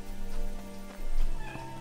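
A small cat meows loudly and close, two drawn-out cries over a steady background hum.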